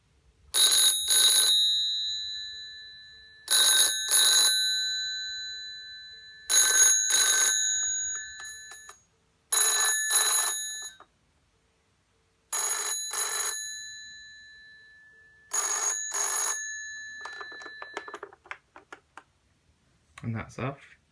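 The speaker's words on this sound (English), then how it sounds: "So here's what the ringer sounds like, just a single gong." A 1988 BT Tribune push-button telephone's bell rings in six loud, evenly spaced bursts, each a bright metallic gong that decays before the next, with quiet gaps between; a short trailing sound closes it.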